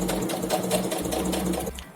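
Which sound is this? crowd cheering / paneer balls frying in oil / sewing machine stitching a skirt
sewing machine stitching a skirt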